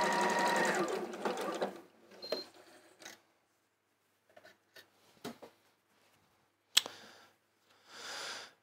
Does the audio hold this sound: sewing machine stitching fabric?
yes